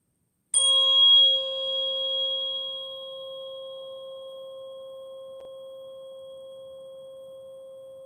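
Struck once, a tuning fork rings out as a clear sustained pure tone with bright upper partials that die away first, the main note lingering steadily and alone for several seconds.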